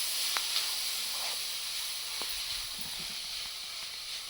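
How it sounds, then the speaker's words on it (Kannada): Grated coconut frying in a pan for fenugreek rice, giving a steady soft hiss throughout with a few faint clicks, no voices present. "ಇದು 1 ನಿಮಿಷ ಫ್ರೈ ಆಗಲಿ"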